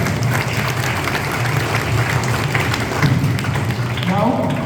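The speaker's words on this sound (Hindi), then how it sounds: "तो सभी के लिए एक बार जोरदार तालियां।" Audience applause at a school's national sports prize ceremony, a steady wash of clapping from a crowd throughout, loud and close, with a voice starting to speak faintly near the end.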